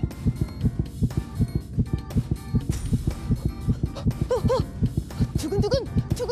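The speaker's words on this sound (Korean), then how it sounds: "맥박이 너무 빠르면 심장이 빨리 뛴다는 뜻인데" A fast, steady heartbeat thumps in a quick, regular rhythm throughout, layered under bright cartoon music with swooping tones, in a children's educational animation about pulse and the heart.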